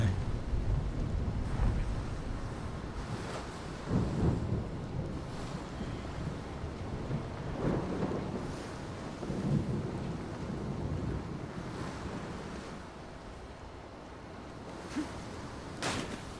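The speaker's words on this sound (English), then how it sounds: "Jumping into the ocean in the middle of a lightning storm." Stormy sea in Assassin's Creed Shadows, with rolling thunder, wind and surging waves forming a steady, loud wash of low rumble, swelling in several bursts and then easing slightly toward the end.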